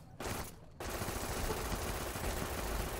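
An automatic weapon in Fallout New Vegas fires very rapidly in a near-continuous roaring stream after a brief opening burst and a short pause.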